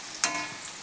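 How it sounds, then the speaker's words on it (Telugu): Meat pieces deep frying in oil for biryani give a faint, steady sizzle, with one sharp crackle near the start. "ఇలా డీప్ ఫ్రై చేసుకొని సైడ్ పెట్టుకుంటే బాగుంటుంది."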